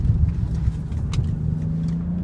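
BMW 5 Series (2004-2010) driven hard through a sharp corner, giving a steady close road and engine rumble that holds constant for a couple of seconds with no talking.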